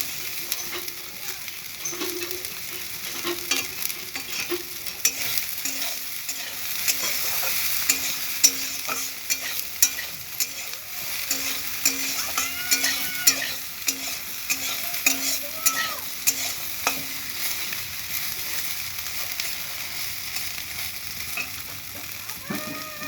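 Soybean chunks sizzle and fry in a pan while a metal spatula scrapes and stirs them in repeated strokes, a steady crackle close by with no talking.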